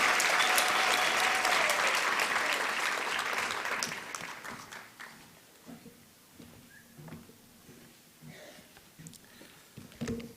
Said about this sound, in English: let's give Professor Kenneth Matengu a round of applause